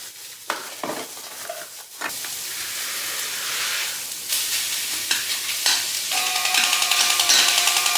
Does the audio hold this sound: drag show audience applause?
no